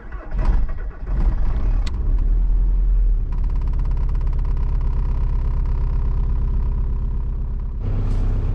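A VW Golf 1.9 TDI diesel engine cold starts in winter with summer diesel in the tank. The starter cranks loudly for a couple of seconds, then the engine catches into a steady, clattering diesel idle that continues close by.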